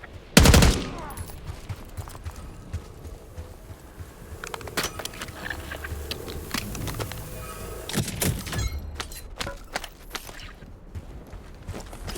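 Gunfire in the Black Ops 6 shooter game: an opening loud blast, then scattered sharp shots and bursts of fire over a busy, rumbling battle soundscape that runs throughout.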